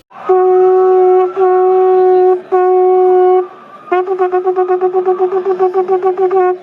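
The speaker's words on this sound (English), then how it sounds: "The shofar blast sounded on Rosh Hashanah follows precisely the pattern we've described." Shofar blasts for Rosh Hashanah: three long, steady horn notes with brief breaks, then a fast run of rapid pulsing short blasts, loud and alone.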